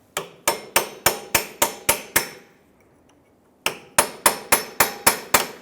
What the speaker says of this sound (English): Now I'm using a chisel here to go ahead and get up inside this split here.